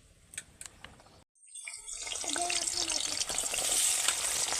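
Washed potatoes hit hot oil and burst into a loud, rising sizzle after a few quiet clinks and a brief silence, the frying crackle growing dense and steady up close.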